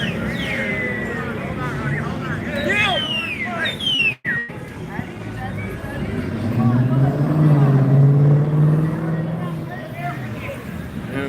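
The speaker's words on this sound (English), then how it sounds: "Impatient cars." Impatient cars driving past a Las Vegas night group bike ride, engines swelling and fading as vehicles pass nearby, with a louder rumbling pass in the second half, mixed with voices and chatter from the riders.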